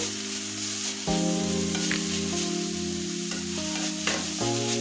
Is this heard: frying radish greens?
yes